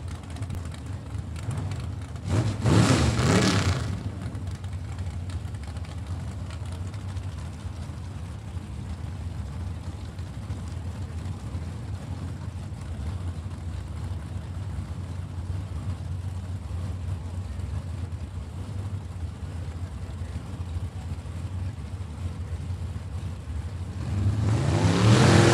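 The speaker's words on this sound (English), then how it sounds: "gonna be racing that 1955 Chevy 210 out of Louisville, Kentucky" A 1955 Chevy 210 drag racing car at Mo-Kan Dragway holds a loud, steady engine drone, with brief surges of revving near the start and the end.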